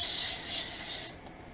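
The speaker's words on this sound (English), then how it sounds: "I'm gonna spray some Pam." Pam cooking spray hisses onto aluminum foil in an RV kitchen: one steady, fairly close spray lasting about a second, then it cuts off and the room goes quiet.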